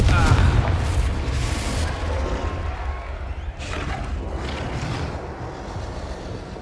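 A Confringo fire spell detonates in Hogwarts Legacy, a loud booming explosion that rolls on with a rumbling tail, followed by further crackling bursts, with no talk over it.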